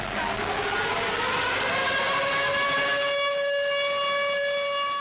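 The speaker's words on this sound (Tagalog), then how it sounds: "tumunog na ang sirena, hudyat ng pagsisimula ng nationwide simultaneous earthquake drill ngayong araw" A civil defense siren wails to mark the start of a nationwide simultaneous earthquake drill at nine in the morning, a loud, sustained rising tone with steady harmonics that holds throughout without any talk.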